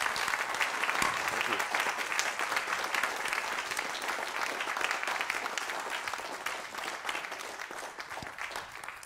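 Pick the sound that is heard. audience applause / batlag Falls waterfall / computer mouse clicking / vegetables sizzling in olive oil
audience applause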